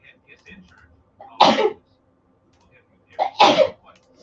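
Two sharp sneezes, about two seconds apart, close and loud, with faint quiet sounds between them.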